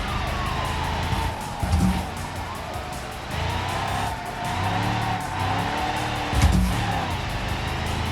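A police car siren wails in the driving game BeamNG, its rising and falling tone running steadily under engine roar and tire noise, with a couple of louder thumps along the way.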